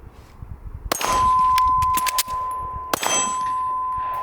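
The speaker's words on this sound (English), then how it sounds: "let's compare a typical reload between the Glock and the Vp9. First up is the Vp9 with its lever release." An HK VP9 pistol is reloaded using its lever magazine release: sharp metallic clanks and clicks as the magazine drops and seats, followed by ringing metal tones and a second loud clack as the slide closes.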